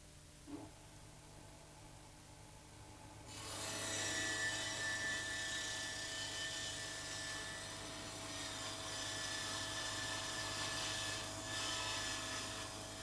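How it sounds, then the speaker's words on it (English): Kity Bestcombi combination machine's circular saw cuts a row of finger joints into a wooden edge, a loud steady whining blade-and-wood roar starting after a quiet motor hum and running on continuously. "Then I start to make all the cuts at equal intervals along the edge of the wood."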